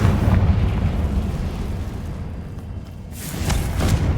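A Confringo spell explosion in Hogwarts Legacy gameplay, a loud, dense, rumbling fiery blast that fills the whole clip and swells again near the end, with no talk.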